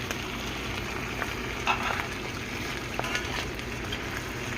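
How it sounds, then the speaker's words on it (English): Trout sizzles in a frying pan in an even, fairly quiet crackle, with a few small utensil clicks and pops and no voice. "I'm gonna let that fry up real good."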